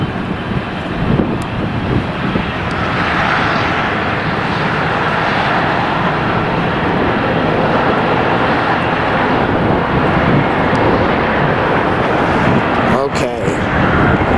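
Airliner at Los Angeles International Airport producing a loud, steady broadband roar that fills the whole stretch, with some wind buffeting, while people talk faintly underneath.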